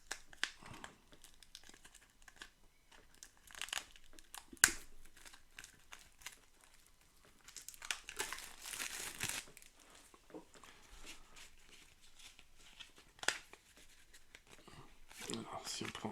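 A plastic sleeve slid off a board game card, soft crinkling and rubbing in quiet bursts with a louder rustle partway through, while a person talks nearby.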